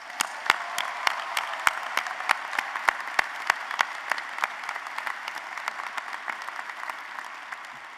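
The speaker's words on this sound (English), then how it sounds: "Let's give all these new officers one more round of applause." Commencement crowd applauding new U.S. Armed Forces officers at an engineering graduation ceremony, a broad wash of clapping in a large hall with sharp individual claps standing out, steady and slightly fading.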